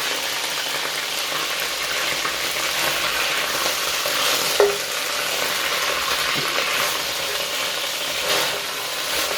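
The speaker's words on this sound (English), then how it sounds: "Now, this is a good time to add our soy sauce." Beef stew sizzles and fries steadily in the pot as soy sauce goes in, with a brief sharper hiss or clink midway and faint stirring throughout.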